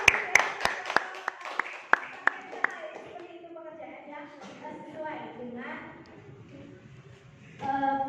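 A classroom of students gives a fellow student a short round of scattered hand claps, sharp and close, fading after a couple of seconds as voices and murmuring take over.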